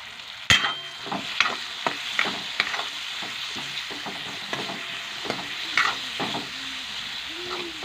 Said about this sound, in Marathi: ते चांगलं परतून घ्यायचं।